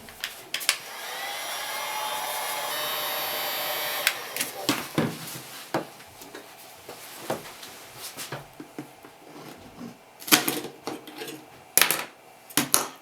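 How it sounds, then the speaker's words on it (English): Heat gun on low setting blows a steady airy whoosh for about four seconds while stripping a guitar, then cuts off, followed by scattered knocks and taps. "Heat gun on low."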